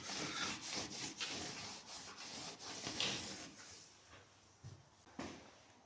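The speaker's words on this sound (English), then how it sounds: "Literally just waxing it now." Furniture wax being rubbed by hand onto a new timber beam: repeated close scrubbing and rasping strokes on the wood, fairly quiet, with a few brief knocks near the end.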